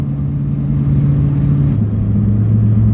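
A Chevy truck's engine rumbles steadily at low pitch while driving on a road test after a knock sensor replacement and new fuel injector O-rings, with no talk, a continuous close drone with a slight shift in tone midway.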